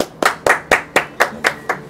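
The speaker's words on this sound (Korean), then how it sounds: "백이사 박수 한번." Seven sharp, evenly spaced hand claps ring out close and loud at a brisk, steady rhythm during a studio talk show, with each crack decaying quickly before the next.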